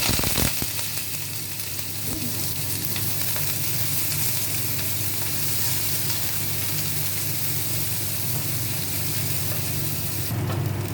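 Green chilies frying in hot oil in a pan, a dense continuous sizzle with crackling spatters, loud and close throughout, with no talking.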